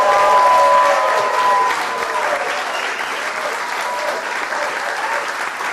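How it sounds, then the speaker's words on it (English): Dinner guests applauding together, a dense wash of clapping at close range that starts strong, eases slightly and carries on steadily, with faint voices mixed in. "Susie deserves a great round of applause"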